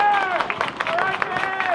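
Audience at a school fall marching band show clapping and cheering, with loose bursts of applause and excited shouts close by, overlapping a chattering crowd for under two seconds.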